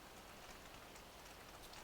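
Steady rain falls in the Farming Simulator 2013 video game, a dense, even hiss of drops that stays constant and fairly faint throughout, with no other sounds.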